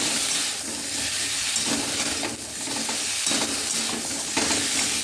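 Bottle gourd pieces stirred into a fried spice paste in a hot pan, a loud, dense sizzle and hiss that runs continuously with scraping stir sounds swelling and easing, close up and with no voices.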